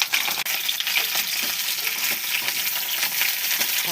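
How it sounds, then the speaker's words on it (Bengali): Pabda fish frying in hot oil, a dense, loud, continuous sizzle heard up close with a brief dip partway through and no voices. "পাবদা মাছটাকে ভালো করে ভেজে নিচ্ছি"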